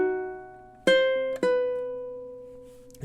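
A ukulele plays measure 10 of a Christmas song as three plucked chords, spaced unevenly and ringing out clearly in a quiet room, with no voice.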